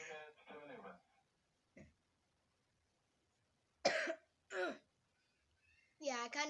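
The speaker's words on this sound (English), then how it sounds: "Just in case you're hearing me like coughing, like extremely hard." A person with a nasty cough coughs hard in three sharp, harsh bursts separated by silence, with speech before and after them.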